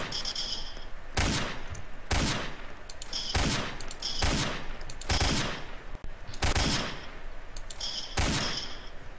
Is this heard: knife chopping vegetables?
no